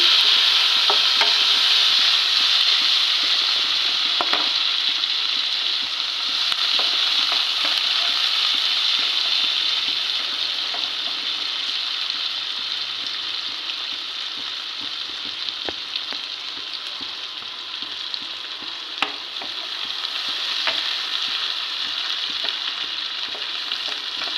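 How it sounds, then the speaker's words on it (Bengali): Chopped onions fry in oil in a pan for a fish curry, a close, even sizzle with occasional clicks and scrapes from stirring that carries on steadily with no voices. "পেঁয়াজটা একটু ভালো ভাজা করে নিতে হবে"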